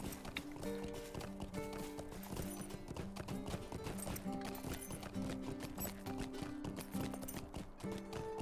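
Horse hooves clip-clop steadily in Lord of the Rings Online, a quick even rhythm of close, moderately loud footfalls under dense game music with no talk.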